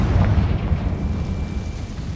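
A Confringo fire spell explodes in Hogwarts Legacy, a loud booming blast at the start that rumbles and fades over a couple of seconds, with no talk.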